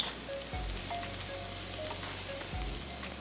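Onion sautéing in a pan for a vegan quiche, a soft continuous sizzle close by, with faint low thumps and a quiet background hum.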